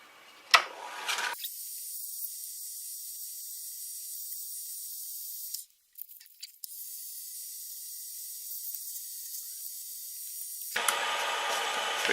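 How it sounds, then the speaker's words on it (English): Steady high-pitched hiss of sandpaper against a hollow wooden egg spinning on a lathe, continuous and close, with a brief break midway and a slightly harsher stretch at the end. "Back to the sanding."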